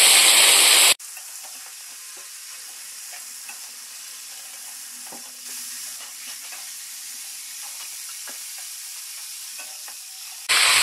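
Chicken meat frying in hot oil for a curry gives a soft, steady sizzle with occasional stirring scrapes, loudest in brief bursts at the very start and end, with no voices.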